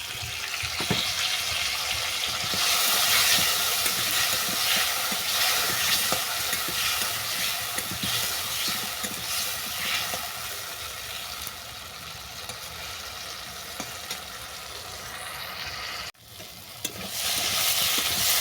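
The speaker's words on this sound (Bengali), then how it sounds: "টমেটোগুলোতে ভালো করে কষানো হয়ে গেছে" Chopped tomatoes sautéing in a pan with lightly fried potato and raw pumpkin, a loud continuous sizzle with frequent scraping stirs, ending with a brief dip and clatter.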